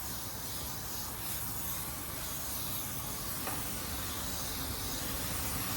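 Spray gun misting paint onto a car's rocker panel inside a paint booth, a continuous even hiss that holds steady and fairly quiet from start to finish.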